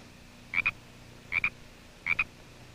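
A frog croaks three times at an even pace, each croak a quick double chirp, fairly faint against a quiet background.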